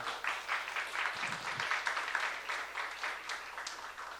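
A church youth congregation applauds during a sermon, a steady burst of many hands clapping together at moderate distance, sustained for several seconds.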